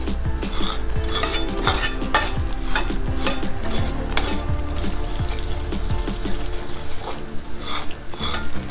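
Sooji halwa, a semolina pudding mixture, sizzles in a pan while a spoon scrapes and stirs it in steady, repeated strokes, close and continuous, with no voices.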